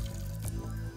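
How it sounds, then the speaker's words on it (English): Boiling water pouring onto two eggs, saffron and rose water, a short steady liquid fill with a wet gurgling splash lasting about a second, close and fairly loud. "and then you're going to pour boiling water to kind of get them all"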